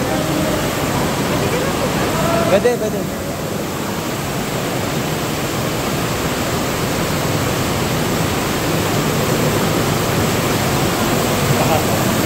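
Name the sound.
strong rushing river water at Tinipak cave, Daraitan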